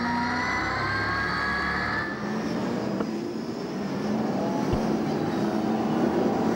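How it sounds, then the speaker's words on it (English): V8 SuperTourer race cars at Hampton Downs circuit, a steady mass of engine roar as the field bunches up under a restart, continuous and fairly distant with no talk. "Field compressing for a restart in race 3, the V8 SuperTourers Championship from Hampton Downs."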